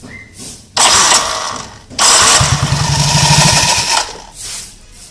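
A motor scooter is started during CVT servicing, with two loud bursts of starter whirring and mechanical clatter, the second one longer and close by, followed by the engine catching briefly.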